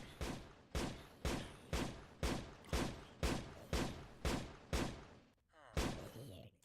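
An Immersive Engineering turret in Minecraft fires a regular series of about ten sharp, punchy gunshots roughly half a second apart, each with a short decaying tail, followed by a brief pause and one final shot.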